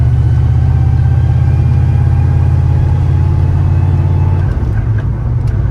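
Loud, steady engine drone of a boosted Fox-body car heard from inside the cabin, a continuous low rumble that shifts slightly near the end.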